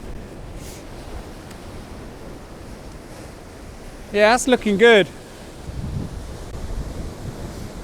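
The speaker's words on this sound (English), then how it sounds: "I don't know how much this wind is blowing into the microphone and you can't hear me" Strong wind buffets the microphone on a stormy coastline, a constant low rumble mixed with surf, while someone briefly speaks midway.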